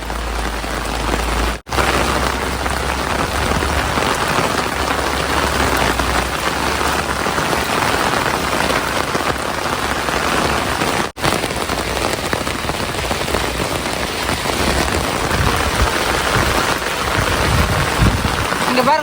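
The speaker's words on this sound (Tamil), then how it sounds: "செம்ம மழைங்க நம்ம ஊரில்" Heavy rain pours down steadily, a loud dense hiss of drops hitting surfaces, continuous and close, with a brief break near the start.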